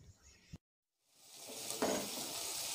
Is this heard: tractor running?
no